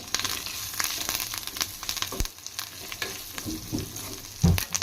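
Curry leaves and asafoetida tempering in hot oil for tomato dal, a steady loud sizzle and crackle with stirring scrapes and a sharp pop near the end.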